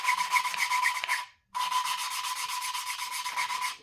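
Engine valve on a Farmall Cub tractor being lapped against its seat with a suction-cup tool, a continuous close gritty rubbing rasp that breaks off briefly once and resumes, steady and fairly loud.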